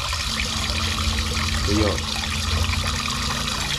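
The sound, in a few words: water flowing from a car wash sprayer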